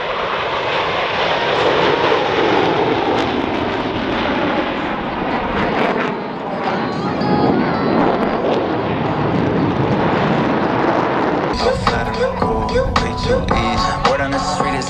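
U.S. Navy Blue Angels jets at the MCAS Cherry Point airshow, flying a barrel roll break. A loud, sustained jet engine roar swells and shifts, and music comes in over it near the end.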